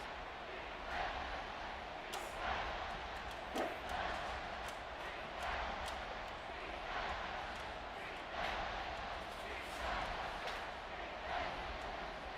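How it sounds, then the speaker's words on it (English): Crowd at a Texas Tech football stadium game roars in a dense, sustained wall of cheering and shouting, with sharper swells and whoops rising throughout; no clear speech stands out. "The crowd electric, trying to help Tech on this 3rd down."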